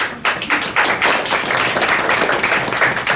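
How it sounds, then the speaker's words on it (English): An audience claps and applauds in a room at a health sciences talk, a loud, dense burst of clapping that is sustained throughout. "You get applause for that."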